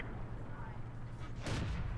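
A T28 tank gun fires in World of Tanks gameplay, one deep blast with a rumbling tail near the end, heard over a low engine drone with someone talking over it.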